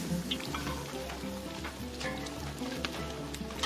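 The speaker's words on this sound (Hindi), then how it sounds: "फिर वाजे ने खौलते हुए घी में कश्मीरी मिर्च से तड़का लगाकर ये हाक तैयार कर दिया।" Kashmiri chillies are tempered in boiling ghee for a Kashmiri haak dish, giving a soft, continuous sizzle and crackle that runs steadily throughout, faint, with no voices.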